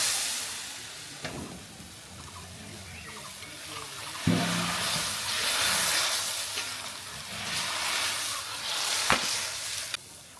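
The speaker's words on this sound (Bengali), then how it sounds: "এখন আমরা মুজমুজে ভাজা মাছটা আমরা কড়াইয়ের মধ্যে ঢেলে দেবো" Crisp fried river pangas fish is tipped into a wok with spice paste and tomato, giving a close, sustained sizzle and hiss with a few sharp clatters as pieces land and get stirred.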